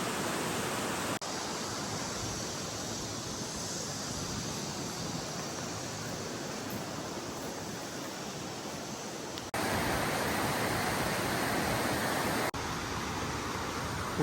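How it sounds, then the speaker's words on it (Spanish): A river flows along its bank at a camping spot in South Korea, a steady broadband rushing wash with no breaks. "Orillas del río, te puedes dar un bañito"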